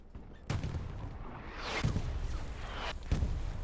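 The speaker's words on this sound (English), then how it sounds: "I think that's friendly artillery." Friendly artillery shells land during a competitive match of a WWII shooter on the Carentan map, with several sharp booms at intervals, distant rumbling blasts between them, and continuous battlefield noise.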